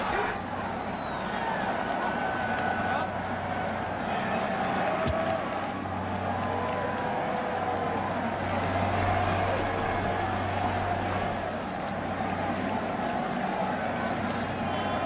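At Fenway Park during the 1999 ALCS Game 5 between the Yankees and Red Sox, a large baseball crowd keeps up a steady, distant murmur and hum throughout, with a commentator's voice over it.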